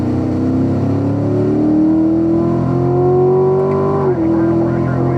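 Corvette Stingray on a track pulling hard at full throttle in a manual gear, engine note rising steadily for about four seconds before a brief dip, loud and heard from the cabin.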